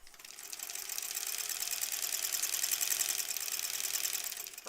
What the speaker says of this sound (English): We're going to sew right along that B3 edge.